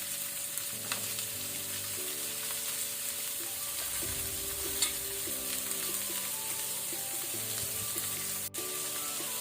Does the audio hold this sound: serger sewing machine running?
no